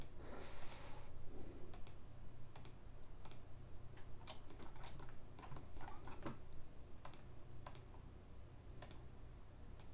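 Computer keyboard keys are pressed in irregular single clicks and short bursts, quiet and close, over a steady low hum with no talk.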